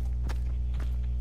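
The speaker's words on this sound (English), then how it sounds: "I hear footsteps" Footsteps during a game of hide and seek, two or three soft steps landing over a steady low hum, with no talking.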